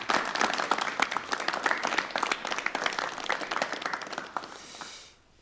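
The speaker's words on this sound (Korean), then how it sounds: "여러분 환영의 박수를 부탁드려 보겠습니다." A studio audience at a 1988 KBS television talk show gives a welcoming guest a dense, loud round of clapping that holds steady for several seconds, then tapers off and stops.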